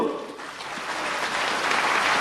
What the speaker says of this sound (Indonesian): kasih tepuk tangan dulu yang meriah Bapak Ibu